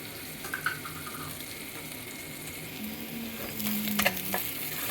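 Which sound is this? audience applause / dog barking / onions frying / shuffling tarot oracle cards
onions frying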